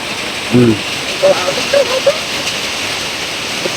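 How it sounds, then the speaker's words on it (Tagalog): Heavy rain pours steadily on an outdoor home site under repair, a dense continuous wash of noise throughout, with a few brief voiced sounds breaking in near the start. "ang ingay talaga ng ulan kasi napakalakas"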